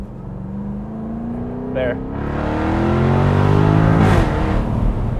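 A 2021 Jaguar F-Type R exhaust climbs in pitch as the car accelerates hard past 3500 rpm, the engine note swelling louder to a peak before easing. A voice speaks briefly near the start.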